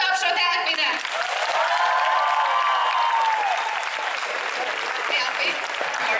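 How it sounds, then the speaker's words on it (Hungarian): Audience applause at a cosplay convention stage event, a steady wash of clapping that fills the whole stretch with a continuous crowd texture and some background voices and tones mixed in. "Szóval nagy tapsot Elfinek!"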